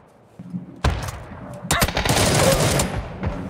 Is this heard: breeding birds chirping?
no